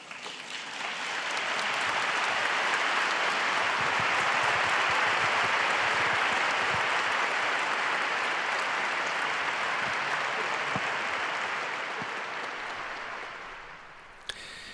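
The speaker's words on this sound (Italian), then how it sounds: "Un applauso ha salutato le parole che il Santo Padre ha pronunciato nella sua omelia" A large stadium crowd applauds after Pope Francis's homily at an evening Mass in Verona, a dense, steady roar of clapping that swells in and holds for many seconds before fading at the end.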